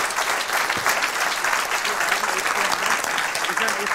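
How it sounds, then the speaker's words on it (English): Sustained applause from a game-engine conference audience at GodotCon 2023 lightning talks, dense and even, filling the room for the whole stretch with a faint voice underneath. "A round of applause."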